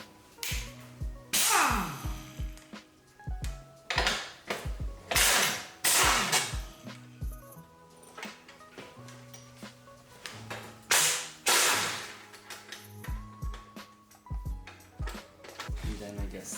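A wrench works loose the 14mm taillight nuts on a Yamaha Virago motorcycle frame during a cafe racer teardown, producing loud, sharp metallic clicks and clanks in irregular bursts, close to the microphone.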